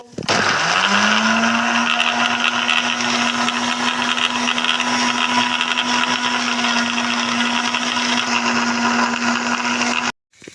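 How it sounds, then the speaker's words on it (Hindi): Onions grinding in a juicer-blender jug: a loud, steady motor whine runs alone without pause for about ten seconds, then cuts off abruptly. "तमाम प्याज को हम जूसर के जग में डाल के अच्छी तरह से ग्राइंड कर लेंगे।"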